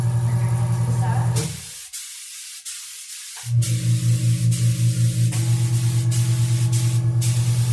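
A steady hissing airbrush spray tan mist runs almost throughout, briefly cutting out before resuming, with a rhythmic low mechanical hum beneath it.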